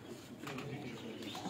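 A rare fancy-breed pigeon coos close by, a brief soft, throaty call over steady background noise.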